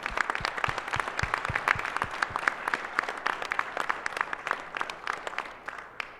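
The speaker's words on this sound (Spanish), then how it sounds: "desde aquí un gran aplauso a nuestra compañera." Applause at a weekly assembly, many hands clapping in a brisk, irregular patter, moderately close and steady, tapering slightly toward the end with no voices over it.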